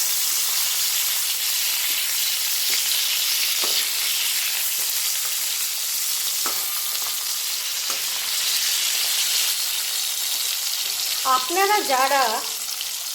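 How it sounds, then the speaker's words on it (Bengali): Three gourd-leaf fritters with dried fish fry in oil over a low gas flame, a steady close sizzle and hiss running throughout, with a few clicks of a utensil and a brief voice near the end. "আমি 3টে বড়াই একবারে ভেজে নেব, আর আমার গ্যাসের আঁচ থাকবে একদম সিম"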